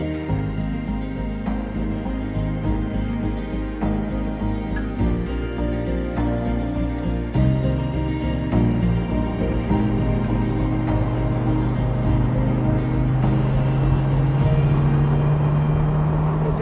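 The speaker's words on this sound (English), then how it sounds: "Just hear those turbos coming on song is wonderful." A turbocharged 2021 Morgan Plus Four accelerates with a loud, continuous engine drone heard close up. The pitch climbs steadily toward the end, and no one speaks.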